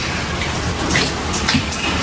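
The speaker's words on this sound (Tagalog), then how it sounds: "Aba, hindi naman malakas ang ulan." Light rain falls steadily in a rural Philippine setting, a continuous soft hiss of drops with a few louder patters on a nearby surface, with no one talking.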